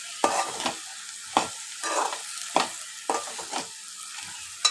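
Onions are stirred in a frying pan, with about six distinct scraping spatula strokes at a steady pace over a faint sizzle, close up and without speech.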